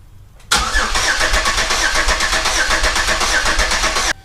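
A Pontiac Grand Am's engine, just repaired after a crank sensor fix, catches abruptly after a brief crank and settles into a loud, steady, close running idle that cuts off suddenly near the end.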